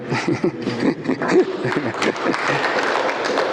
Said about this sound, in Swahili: Maybe at this point we can clap for them.